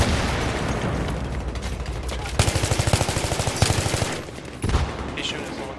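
Gunfire in the video game Battlefield 3 on the Operation Metro map: rapid automatic bursts of rattling shots in two main volleys with a later short burst, loud and close, over ongoing game noise.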